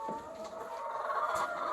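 Hens cluck softly by new rollaway nesting boxes in a coop, a steady mid-range murmur of fowl calls with a few sharper clucks standing out, no one speaking.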